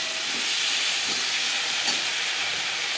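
Ginger and green-red chilli paste frying with drumstick stems and potatoes for a rohu fish curry, giving a steady, loud broadband sizzle that hisses on throughout without a break.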